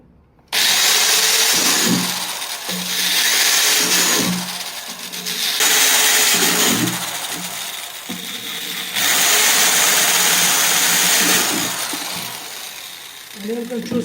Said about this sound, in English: I'm just going to drill a couple on the bottom here.